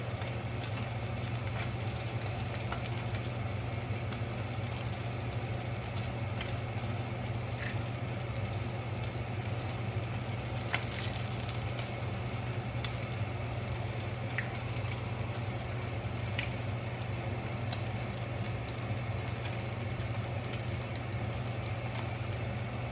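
Lemon panko crusted salmon fries in oil in a pan under a splatter screen on a stovetop, giving a steady, dense crackling hiss with a low hum beneath, broken by a few sharper pops.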